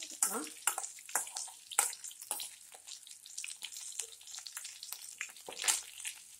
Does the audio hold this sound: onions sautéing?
yes